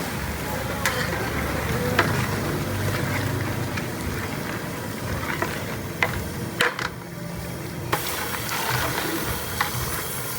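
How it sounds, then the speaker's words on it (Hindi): Chicken pieces fry in masala over a high flame for a white karahi, giving a steady close sizzle with occasional sharp clinks and stirring scrapes from the pan. "अच्छी तरह से इस मसाले में आप इसे भूनेंगे। फ्लेम को हाई रखेंगे।"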